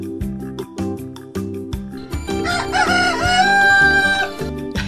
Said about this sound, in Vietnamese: Gà gáy rồi.